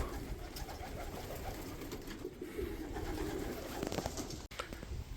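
Pigeons coo softly inside a loft on a hot summer midday, low repeated cooing heard faintly against a constant noisy background, with no voices present.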